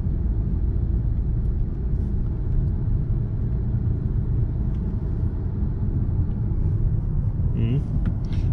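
Steady low road rumble from inside a car driving toward Sukhum in Abkhazia, a constant, loud engine and tyre drone throughout with no breaks.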